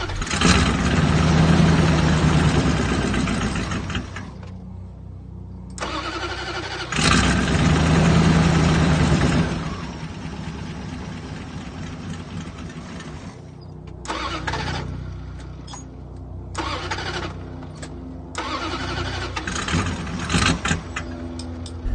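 A 1988 Chrysler Fifth Avenue with a recently replaced fuel filter cranks repeatedly and catches, then idles roughly and unevenly, stumbling and surging between loud bursts of cranking, heard up close with no voices.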